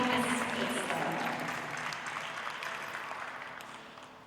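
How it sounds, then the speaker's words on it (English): Applause in a dairy show arena for a grand champion Guernsey cow, a broad wash of clapping from the crowd that starts strong and slowly tapers off, with faint voices mixed in. "let's have another round of applause for our grand champion, Guernsey"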